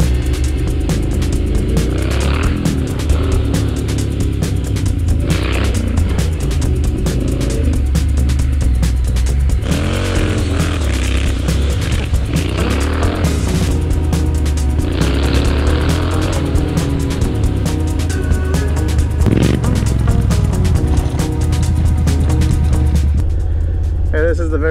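A street scrambler motorcycle rides along a dirt road, its engine droning steadily and loud throughout with wind rush, while a rider talks over it almost continuously.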